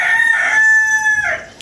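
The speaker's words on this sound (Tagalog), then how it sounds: "Nagigising na yung mga manok." A rooster crows one long, loud, drawn-out crow close by as the chickens wake in the morning, with no talk over it.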